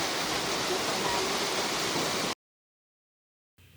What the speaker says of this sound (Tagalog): Spring water natin po kanina yan.